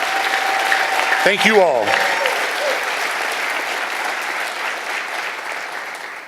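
Awards ceremony audience applauding employees, a full, steady round of clapping that carries through, with a brief spoken line from a presenter near the start.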